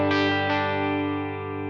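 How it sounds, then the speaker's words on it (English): An electric guitar plays through a studio reverb effect in Native Instruments Guitar Rig 6, with two quick strummed chords that ring out and decay smoothly in a lingering tail, close and clear. "Studio reverb. Let's go to that next."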